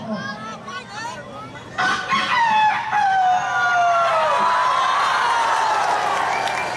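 A voice imitates a rooster's crow, a long rising-then-falling call held for several seconds, loud and close, after some softer vocal sounds.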